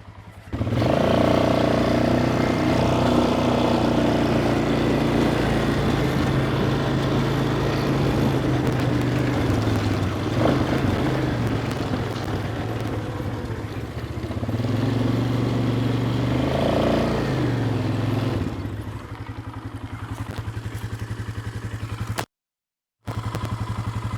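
An old, neglected ATV engine runs loud and close through a test ride, a continuous rough motor drone that rises and falls as it revs and shifts, cutting out briefly near the end before resuming.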